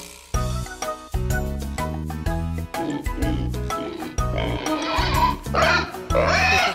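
Pigs oinking in a French children's farm nursery song, the grunting snorts rising over bouncy, loud backing music toward the end alongside singing.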